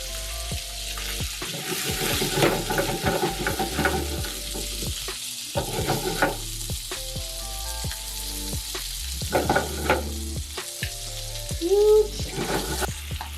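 Spot prawns cooking in butter in a pan, four at a time: a lively close sizzle and spatter with clinks and knocks of utensils and pan.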